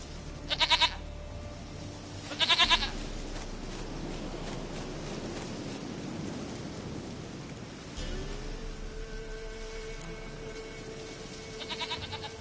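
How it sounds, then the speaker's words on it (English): Goat bleats in The Witcher-style fantasy video game, two loud bursts early, another near the end, over steady rain and rumbling thunder. "Goat of mine, dearest, sweetest goat."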